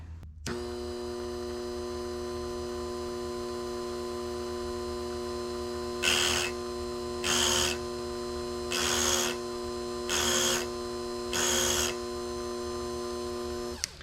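A piston ring gap grinder from eBay, reworked and used to file ring gaps on a 2JZ engine's rings to Wiseco spec, buzzes in five short bursts of about a second each over a steady mains hum.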